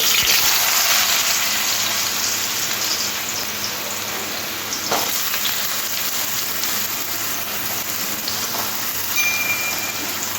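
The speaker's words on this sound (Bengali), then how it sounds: "এবার আলুগুলো তেলের সাথে নাড়াচাড়া করে একটু ভেজে নিতে হবে" Steady hissing sizzle of potatoes frying in hot oil, a dense crackling wash with faint scrapes, close by and without speech.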